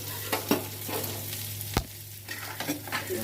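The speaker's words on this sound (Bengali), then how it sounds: "বাদামটা ভাজতে হবে" Peanuts frying in oil in a pan alongside banana flower curry, a close crackling sizzle with intermittent sharp stirring scrapes and a steady low hum underneath.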